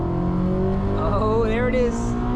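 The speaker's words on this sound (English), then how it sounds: "let's give some VTEC a whirl" A 2008 Honda Civic Si with a K20 engine revs hard into VTEC from inside the cabin, engine note climbing and rising in pitch, loud and close, with people talking over it.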